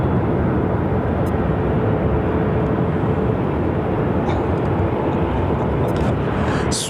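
A Swoop airliner rolls on runway 7 left at Phoenix airport, a steady loud broadband engine roar that holds level throughout with no break.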